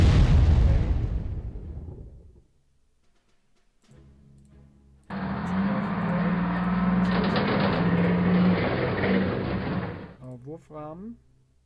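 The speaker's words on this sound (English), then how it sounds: "So we can shoot them some more with the artillery." Artillery shelling in the war strategy game Panzer Corps: a loud blast that rumbles and fades over about two seconds, then after a short lull a sustained roar of bombardment lasting several seconds, ending in a few short sharp bursts.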